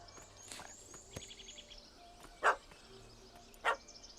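Dog in Witcher 3: Hearts of Stone barking twice in the middle distance, two short separate yaps over quiet game ambience with faint birdsong.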